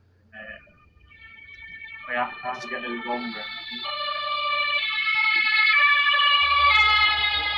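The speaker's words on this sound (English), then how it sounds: "Why is there always a siren coming from there?" A synthetic wailing siren in the video game Persona 3 FES rises and holds steadily, loud and electronic-sounding, with a few brief vocal bursts near the start.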